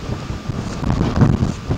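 Gusty outdoor wind buffets the microphone throughout, a steady low rumble with louder surges, heard during a metal detecting outing with no speech.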